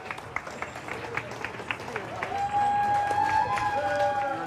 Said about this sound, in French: À leur retour, les pilotes sont applaudis.